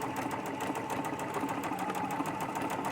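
A sewing machine runs a long gathering stitch through upcycled fabric for a boho fairy skirt, a steady, rapid mechanical whirr with even stitch pulses, close and alone.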